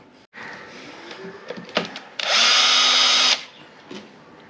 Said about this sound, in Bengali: একটা বোল্ট খোলা হয়ে গেল, সেকেন্ড বোল্টও খোলা হয়ে গেল।